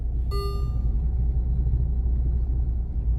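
A low, steady rumble of a car driving, heard from inside the cabin, with a brief tonal chime near the start.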